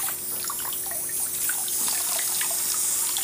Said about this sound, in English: I'm just giving it a little rinse.